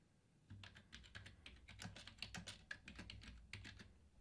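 Typing on a computer keyboard, a steady run of close, crisp key clicks at an even pace over a soft room hum, with no voices.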